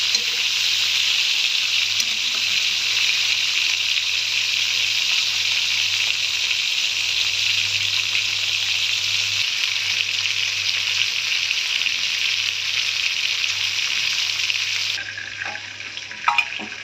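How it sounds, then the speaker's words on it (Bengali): Meat fries red-brown in a pan for spinach-and-meat palong shak curry, a steady loud sizzle running without break, easing slightly near the end with a faint scrape. "মাংসটা খুব ভালোভাবে এপিট আমি লাল করে ভেজে নেব।"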